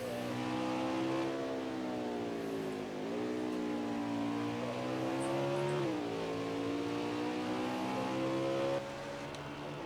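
Race cars lapping Watkins Glen in a racing video game, a loud continuous engine whine rising and falling through gear changes for about ten seconds, no talk.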